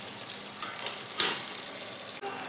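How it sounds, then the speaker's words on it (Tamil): Onions sautéing in a pan for a fish kuzhambu, giving a steady close sizzle with a brief louder burst of frying midway, no voices. "நல்லா இந்த அளவுக்கு பொன்னிறமாக வதங்கணும்"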